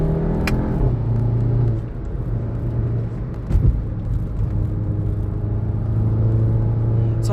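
Engine of a VW Golf 7.5 GTI hatchback heard from inside while driving: a steady loud low drone with a held tone, dipping briefly then rising again as revs change, plus one short thump midway.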